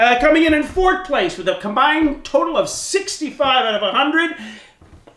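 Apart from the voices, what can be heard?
No distinct noise like a dog, phone or traffic.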